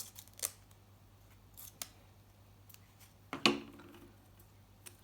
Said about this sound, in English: So I'm going to cut some foam tape nice and thinly.